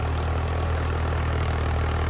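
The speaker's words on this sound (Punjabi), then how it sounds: "ਇਹ ਜੇ ਬਾਈ ਬੰਦ ਨਹੀਂ ਹੋ ਰਿਹਾ ਟਰੈਕਟਰ ਦੇ" A tractor engine fitted with a rotavator drones steadily at idle, a loud, constant low rumble with no break, heard from close up; the engine will not shut off.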